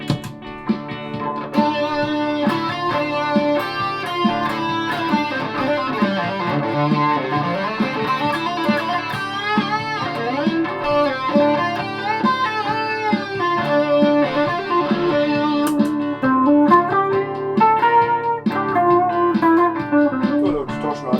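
A Reverend Reeves Gabrels Dirtbike electric guitar plays continuously through a distortion effect, with sustained, dense chords and bending lead lines at steady loudness and no talking.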